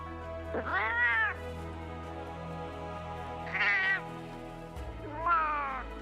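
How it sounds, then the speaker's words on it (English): A Palico cat from Monster Hunter World meows three times, each call rising then falling, spaced a couple of seconds apart over a low game hum. "I won't spam cat voices for forever, I promise."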